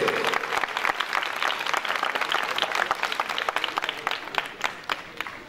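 Dense audience applause fills a Hindi-speaking gathering after a call for louder clapping for the young team members, steady and fairly loud throughout with no pauses.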